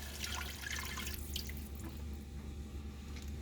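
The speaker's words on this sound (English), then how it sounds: "I'm going to pour in that sauce." Sauce is poured into a hot pan of beef and broccoli, giving a steady, soft liquid hiss with faint splashes over a low background hum.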